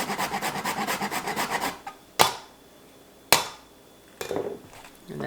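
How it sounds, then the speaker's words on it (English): Whole nutmeg is grated on a microplane grater in a rapid rhythmic series of raspy strokes, followed by a few sharp single knocks and a short rub near the end, close and clear. "And then I take a microplane grater."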